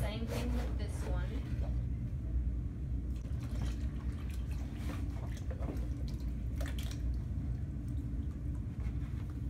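A sponge rinsed in dirty water at a sink after throwing a clay pot on a pottery wheel, giving soft, repeated splashes and drips over a steady low rumble, fairly faint, with a voice speaking throughout.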